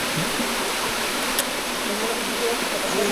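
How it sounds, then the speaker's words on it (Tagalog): Waterfall at a tourist spot in Aborlan or Quezon, Palawan, Philippines, heard as a steady broadband hiss of rushing water, constant and fairly close, with a brief faint chirp and no talk. "yung tubig dito sa waterfalls na to"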